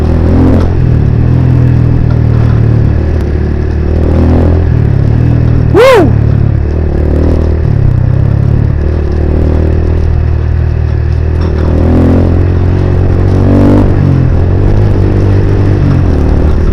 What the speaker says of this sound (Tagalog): Ang sarap pala mag-drive ng motor na maayos yung pagkakatono ng karburador.